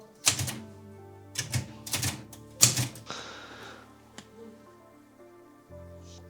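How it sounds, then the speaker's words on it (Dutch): An old typewriter found in an abandoned house is tried out: four sharp, separate key strikes clack up close, followed by a longer rasping mechanical slide and a final faint click. "Oh, een typemachine."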